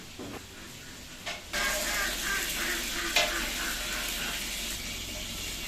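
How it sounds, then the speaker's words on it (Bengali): Chicken pieces frying in oil in a pot ahead of a thick curry, a steady sizzle under occasional stirring clatter, fairly close and even in level throughout. "গোস্তটা তেলের উপরে একটু ভেজে নিলে খুব সুস্বাদু হয় এই জন্য আমরা আগে ভেজে নিচ্ছি"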